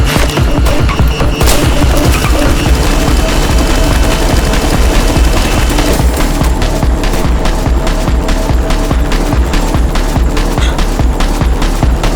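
Dense, loud gunfire from the video game I Am Your Beast, including pistol shots, with rapid overlapping bangs and booms that run throughout without a break.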